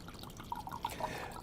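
Wine being poured into a glass for a modest four to six ounce serving, a brief faint trickle with small gurgles and drips, close and quiet.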